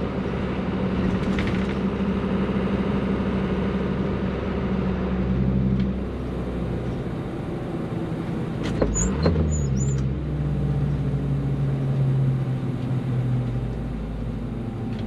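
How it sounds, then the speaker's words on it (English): A Mazda T3500 truck slows on its exhaust brake without the brake pedal. A continuous, close, low engine drone holds steady throughout, with a short shift in tone around the middle. "Now this is all slowing down on the exhaust brake too."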